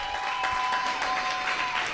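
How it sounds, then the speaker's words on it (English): An audience at a live comedy show claps steadily, a dense, continuous round of applause that runs for the whole two seconds. "How about another round of applause for Ian Daniel Keough?"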